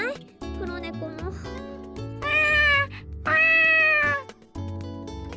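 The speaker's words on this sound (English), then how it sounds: "A light brown cat spotted with white emerges from a nearby clump of bushes." A stray light brown cat spotted with white meows several times, in clear, loud, drawn-out calls with short gaps between them, over a soft musical background.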